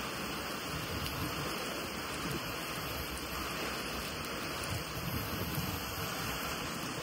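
A heavy rain storm pours down in a continuous, dense roar that stays loud and even throughout, with no voices.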